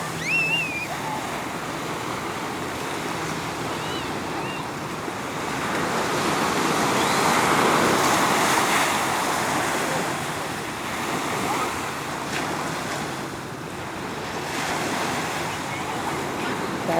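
Ocean waves break and wash ashore at Seal Beach on the Pacific coast, a continuous surf roar swelling and easing in slow surges, with some wind buffeting the microphone.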